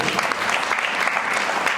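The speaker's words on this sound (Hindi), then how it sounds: "जोरदार तालियां वो प्रिया के लिए" An audience at a network marketing training session applauding a participant named Priya, a loud, steady, dense burst of clapping close by that fills the whole moment without a break.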